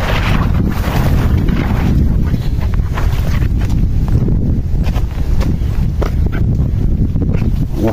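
Strong wind buffets the microphone in a constant low roar up in the mountains, gusting steadily throughout with no voices.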